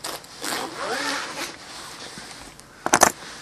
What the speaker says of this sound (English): I guess my solution's not gonna work unless I can find a smaller zipper on this side.